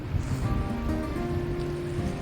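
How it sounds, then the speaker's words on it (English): A big river rushes through Nubra Valley on a mountain trek, a steady broadband roar of flowing water with some wind, loud and close with no one speaking. "So that's a big river."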